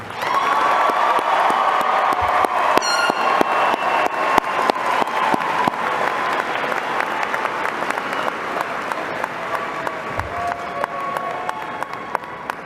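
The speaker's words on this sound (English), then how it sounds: "please join me in your best round of applause for the incredible class of" Sustained applause from a large crowd at a high school graduation, with scattered cheers and whistles, loud and continuous for the whole stretch.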